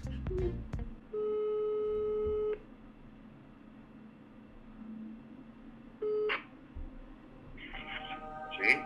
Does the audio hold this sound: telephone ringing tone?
yes